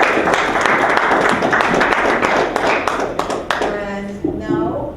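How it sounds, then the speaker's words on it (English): A crowd applauds steadily with dense clapping, while voices and cheers mix in, thinning out toward the end. "Please give another round of applause"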